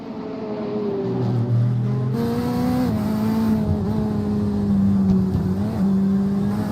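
GT3 race cars in the iRacing game at a Long Beach street circuit rev steadily up and down through gears, a loud sustained engine whine with rising and falling pitch, alone without talk.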